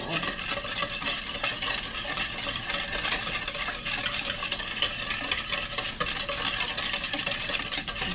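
Cinnamon roll mixture being whisked in a bowl, a steady busy scraping and stirring that runs unbroken for the whole stretch at a close, even level with no talking.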